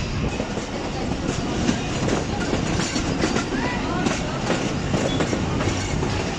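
The Ravi Express passenger train runs on the Shekhupura–Shorkot branch line, a loud steady rumble of wheels on rails with rhythmic clickety-clack, heard from on board in hot weather.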